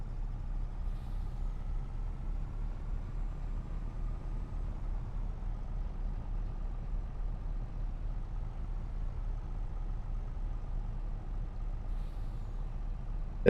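Underpowered truck hauling a load of corn in Farming Simulator 25, a steady low engine drone with a faint higher whine, running continuously at even loudness with no voices.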